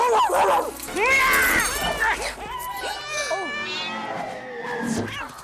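A black cat meows and yowls loudly in a film scene, with drawn-out wailing cries mixed with voices and commotion.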